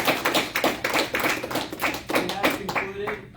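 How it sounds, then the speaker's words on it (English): An audience at a term limits debate claps for both candidates in loose, uneven bursts of handclaps that thin out toward the end, with some talk mixed in. "All right, let's hear a big round of applause for both of our candidates."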